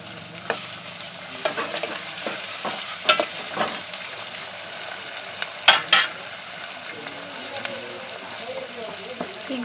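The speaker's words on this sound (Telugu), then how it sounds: "ఇది ఫ్రై అయ్యాక ఫస్ట్ టమాటా ముక్కల్ని వేసేస్తున్నాను" Tomato pieces go into a pan of frying garlic, giving a soft, continuous sizzle with several sharp scrapes and clinks of a spoon stirring at an uneven pace.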